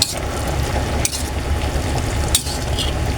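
Kangkong leaves are flipped and stirred in a pan, a close scraping and rustling of utensil against metal over a continuous low sizzle, with a couple of sharper clinks.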